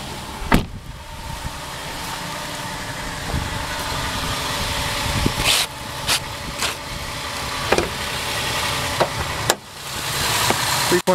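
2012 Honda Pilot 3.5 liter V6 idling after a snowy, icy cold start, a steady low engine hum running throughout, with scattered clicks and knocks from inside the vehicle on top.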